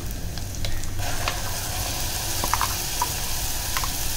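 Onions fry in hot oil with Malvani masala paste for a pomfret curry, giving a steady, close sizzle and crackle. Faint stirring taps sound throughout, and no voices are heard.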